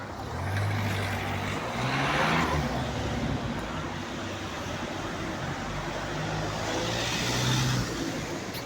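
Cars pass along a street in a steady traffic rumble, with two louder vehicles swelling nearby and fading as they go by. No one speaks.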